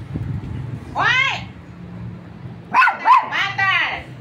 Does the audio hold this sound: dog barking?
yes